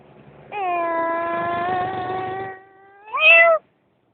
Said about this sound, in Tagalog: nag-away na pusa na yan